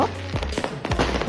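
Fireworks go off in a couple of quick, sharp bangs close together, loud and close.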